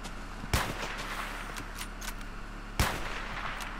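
Two loud, sharp gunshots ring out about two seconds apart in a Minecraft Hunger Games match played with guns, one of them from a dual Glock 16, over a steady hum of game background noise, with no talking.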